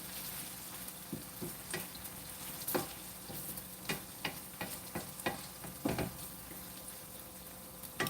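Liver sautéing in a hot pan gives a steady, quiet sizzle, with scattered ticks and stirring clatters breaking in irregularly throughout.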